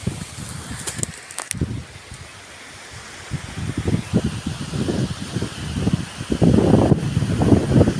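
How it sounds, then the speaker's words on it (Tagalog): Fairly strong wind blowing outdoors on a farm, gusting in uneven rushes with rustling that swells louder toward the end, with no talking. "At may kunting kalakasan ng hangin, ano?"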